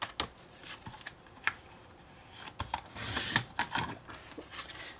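Paper being cut for a scrapbook envelope album, quiet close snips and rustling slides of paper in irregular bursts, with one longer scraping cut midway.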